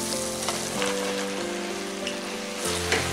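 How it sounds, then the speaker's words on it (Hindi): Mushrooms drop into a hot pan for a mushroom and pea curry and sizzle steadily, with stirring scrapes and a louder crackling burst near the end. "अब हम इसमें मशरूम डालेंगे"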